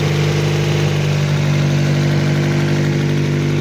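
A Honda CRX engine runs steadily on its first start of the season, a loud, close, even idle with a constant low hum and no talk over it.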